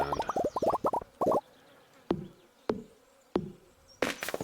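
Stardew Valley game audio: a bee's short buzzing bursts at the start, then a few isolated clicks and plops with quiet gaps between them.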